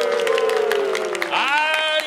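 An audience at a hometown-promotion fair ceremony in Yurakucho claps, a brisk patter of many hands running under prominent voices and tonal sound for about two seconds.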